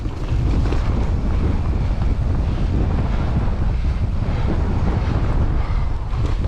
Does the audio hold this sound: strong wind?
yes